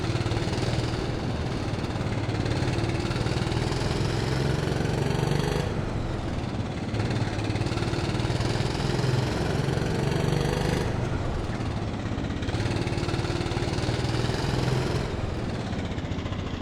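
Rental kart engine in the racing simulator Automobilista 2, a roughly 12 horsepower heavy kart, droning steadily at close range with rises and dips in pitch as it accelerates and lifts off, no voices.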